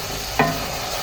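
A spoon stirs chicken curry with spicy tomato gravy in a pan, giving one short, soft scrape over a faint, steady background hiss.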